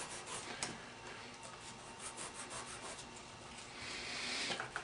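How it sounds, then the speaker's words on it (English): Sandpaper rubs a bevel onto the leading edge of a tenon cork on an Emerson instrument, a quiet continuous scratchy scraping with small uneven strokes that grows slightly louder near the end. "Then we're going to sand a bevel on to the leading edge of the cork"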